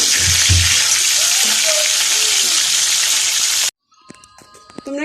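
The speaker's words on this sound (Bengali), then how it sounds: "এখন মাংসটা ভেজে নিচ্ছি" Chicken pieces sizzle and crackle steadily in a hot pan with oil, a loud continuous frying hiss that cuts off abruptly, followed by faint clinks and kitchen handling.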